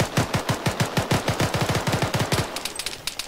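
Automatic gunfire in the military video game Arma 3, a rapid burst of about twenty loud, close shots in quick rhythm, followed by a few sparser distant cracks.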